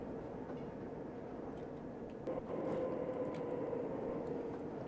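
An overground train on the West Coast Main Line shares the track in Train Simulator 2020, a steady low rumble of rolling wheels and motor that swells slightly halfway through, distant and continuous with no talking.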